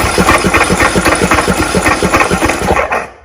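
A John Deere LA125 lawn tractor engine turning over and running rough, a loud close rhythmic chugging pulse that holds steady before cutting off.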